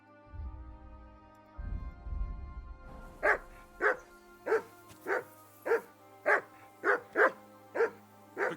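In the video game Kingdom Come Deliverance 2, a dog barks about ten times in a fast, regular string after a low rumbling stretch, each bark sharp and close.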